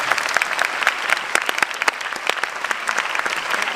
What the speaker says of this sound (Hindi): जोरदार तालियां उदय के लिए।